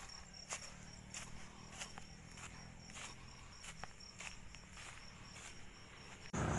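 Crickets chirp at night outdoors in a regular, pulsing rhythm. The sound is faint and steady against a quiet background, with a few soft rustles.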